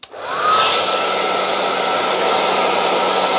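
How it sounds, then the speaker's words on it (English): A hair dryer powered from a Bluetti AC180 portable power station at about 1,000 watts switches on with a short click, then runs with a steady, loud, whooshing blow of air and a thin whine, staying constant throughout. "The power lifting mode is going to drop the power to the hairdryer."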